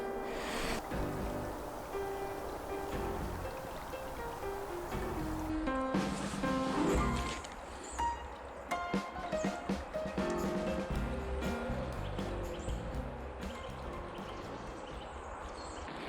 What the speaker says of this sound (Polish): No spójrzcie tam, biegnie rzeczka